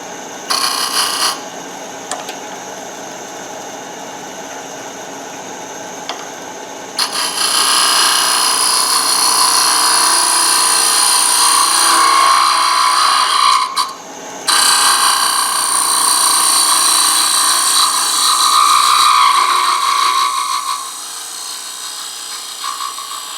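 Wood lathe roughing out a shot glass blank with a gouge, a loud steady scraping rasp that runs in long stretches, dropping to a quieter motor hum between cuts.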